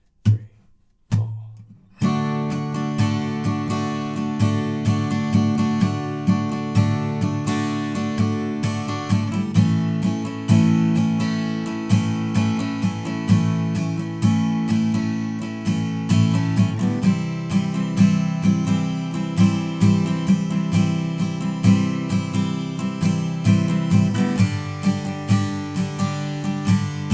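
Acoustic-style guitar strumming chords from a song in a down-down-up pattern, each chord held two bars, steady rhythmic strums after a brief few-note count-in.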